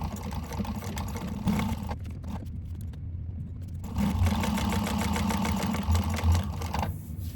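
A sewing machine stitches vinyl for a candy bag in close, rapid mechanical bursts, pausing briefly in the middle before resuming at a steady pace.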